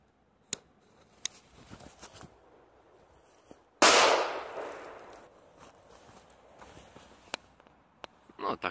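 Mega firecracker from Kaufland exploding on a notebook computer: one sharp, loud bang partway through, followed by a fizzing, decaying rumble, with scattered small clicks and taps before and after.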